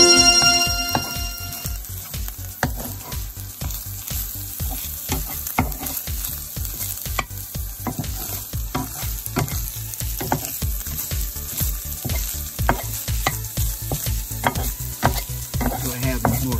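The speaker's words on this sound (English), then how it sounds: "I think it's ready to mix." Chorizo and eggs sizzle loudly in a pan as they are mixed, with a dense, continuous crackle and quick, rhythmic ticking scrapes of a utensil running throughout, close up and with no talking.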